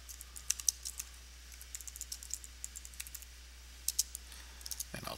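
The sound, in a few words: typing on a computer keyboard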